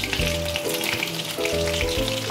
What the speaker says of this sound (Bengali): ফোড়নে আমি বড় এলাচ দুটো দিয়ে দিচ্ছি, একটু জাস্ট ফাটিয়ে নিয়েছি।